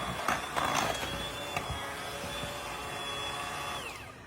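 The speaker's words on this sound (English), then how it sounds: "I'm gonna mix this, and then I'll come right back so you don't have to listen through the mixer" An electric mixer beating peach pound cake batter in a home kitchen, a steady whirring motor hum with a few clattering knocks early on, close and fairly loud, winding down at the end.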